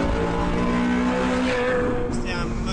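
Ferrari California sports car engine accelerating, a steady strong drone with a rising tone near the middle, fading slightly at the end, with a voice talking over it.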